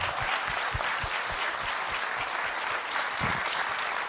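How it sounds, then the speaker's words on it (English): Audience applause at a human rights conference, a steady wash of many hands clapping that fills the room evenly and loudly throughout, with no voices standing out. "I don't mind the applause, I don't."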